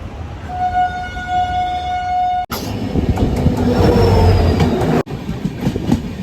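A passenger train carries travellers through the Sakleshpura countryside. A long sustained horn blast comes first, then the loud rumbling clatter of the moving carriages continues close by.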